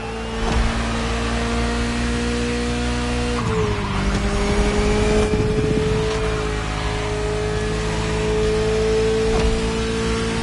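A Ferrari sports car in The Crew Motorfest drones with a loud, steady engine note that drops in pitch briefly near the start and then holds an even cruising tone.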